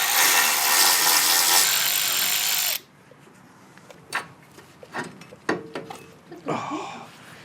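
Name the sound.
tools removing an old brake line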